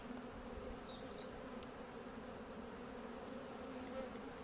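Honey bees hum in a faint, steady drone at an open beehive during an inspection ahead of winter, continuous and with no voices.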